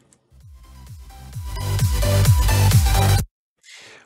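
A music track on Audacity rises gradually from quiet to full volume under a fade-in effect, with steady beats and bass swelling over about three seconds before cutting off abruptly, then a faint brief noise.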